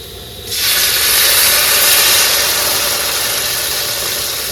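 Water coming to a boil in a pot for fish curry, a steady, loud hiss that swells in after a brief quieter moment and holds on alone.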